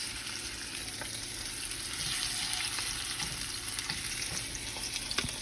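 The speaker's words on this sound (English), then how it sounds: "Don't overcrowd the pan. Give every piece of meat a nice bit of space, yes?" Pieces of lamb frying in a hot, uncrowded pan for a Moroccan dish, giving a dense, continuous crackling sizzle with small pops scattered throughout.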